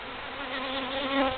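Feral honey bees swarming around an opened hive during a cut-out, a close, steady, dense droning buzz.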